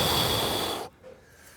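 A strong, forceful exhale through the mouth and nose during a ring workout, a loud breathy rush that cuts off abruptly, then near quiet.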